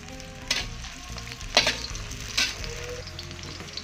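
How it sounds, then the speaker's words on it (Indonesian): Red onion sautéing in a pan, a steady close sizzle with a few louder bursts of stirring scrapes spaced about a second apart, and no voices. "Kita tumis sampai mewangi."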